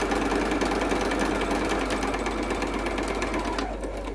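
A sewing machine stitches a fabric coaster, a steady close whir with rapid needle chatter that runs without a break for about four seconds.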